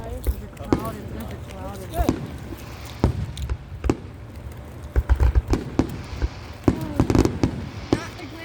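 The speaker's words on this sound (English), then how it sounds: "There's more fireworks over there too." Fireworks bursting outdoors during an Independence Day celebration, a series of sharp bangs and crackles at irregular intervals, some clustered in quick volleys, with people talking and exclaiming in between.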